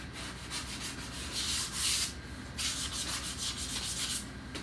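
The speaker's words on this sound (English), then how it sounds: "Then I'm going to wax these dowel pins." Wax is rubbed by hand onto wooden dowel pins in close, rhythmic scraping strokes that swell and fade over a few seconds, with no talking.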